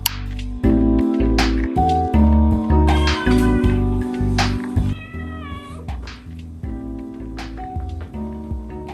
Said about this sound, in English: and their cat, Roseanne, the queen of the internet.